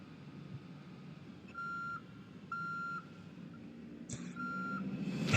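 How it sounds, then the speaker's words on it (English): A work truck in a video game sounds its reverse alarm: three evenly spaced electronic beeps, each held about half a second, fairly quiet over a low engine rumble, ending with a sudden louder burst. "It's got the reverse beeping because it's a work truck."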